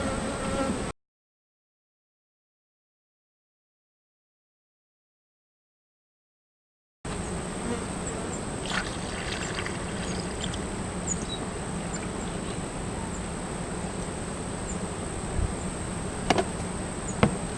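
A honeybee colony buzzes steadily during a late July hive inspection, a dense continuous drone close by with a few knocks from the box, broken by a stretch of silence near the start.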